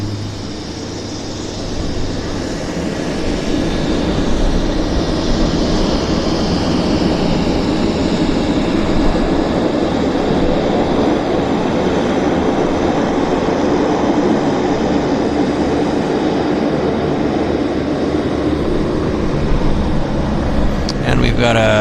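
A Pacific Coastal Beech 1900 turboprop departing its stand at Vancouver airport, a steady loud engine roar and rumble that builds early and holds throughout, with a voice talking over it.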